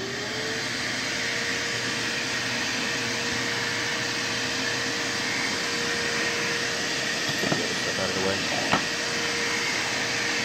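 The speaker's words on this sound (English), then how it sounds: "As it drops down lower, it'll turn on the spindle and go to town." A Yeti SmartBench CNC router's spindle runs steadily while cutting Corian, a loud continuous whine and hiss with a constant tone, with a couple of faint clicks near the end.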